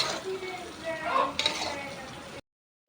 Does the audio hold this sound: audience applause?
no